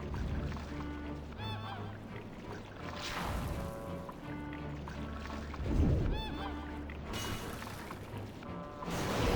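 Bird enemy creature sounds from the PS3 game Demon's Souls, a few honking, goose-like squawks repeating over a busy game soundscape with thuds and crashing effects.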